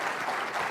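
Brief burst of audience applause at a tech summit talk, a dense, even patter of many hands clapping together, fairly loud and sustained across the short moment.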